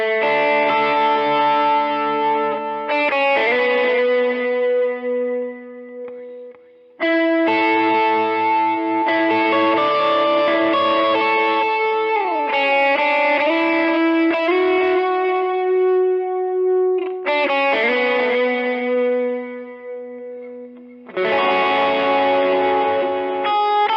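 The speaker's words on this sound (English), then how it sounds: "We'll have our overdrive, delay, and reverb on, and we'll just be picking through the notes slightly." Electric guitar notes picked slowly through an overdrive, delay and reverb chain, sustained harmonic tones with echoing repeats and shifting pitches across several phrases, brief pauses between phrases, loud and close with no voices.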